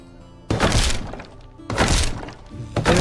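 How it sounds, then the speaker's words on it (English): Wooden tile roof demolished in the game Medieval Dynasty, three loud heavy breaking thunks with crunching debris, each burst separated by a short quiet gap. "We can't upgrade the roof, so we have to destroy the roof."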